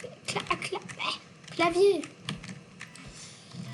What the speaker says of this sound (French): j'appuie sur la mauvaise touche de mon clavier